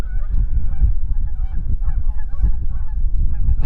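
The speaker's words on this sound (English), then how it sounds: "Look at all them geese." A large flock of geese honks continuously on a windy Kentucky morning, many overlapping calls at moderate distance over a low rumble.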